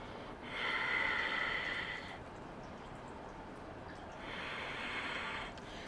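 Two slow, deep breaths sound close and clear, each a long airy exhale or inhale lasting well over a second, with a quiet pause between them during a standing yoga pose at a sunrise Hatha session.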